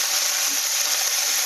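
Curry leaves hitting hot oil with frying toor dal and dried chillies, giving a loud, steady, hissing sizzle close by throughout.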